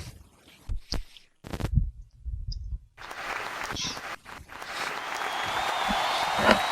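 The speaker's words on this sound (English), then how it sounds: "Give her a round of applause," A show audience claps for a woman guest, the applause rising after a few scattered thumps and short silences and then swelling into a broad, sustained round with faint crowd murmur underneath.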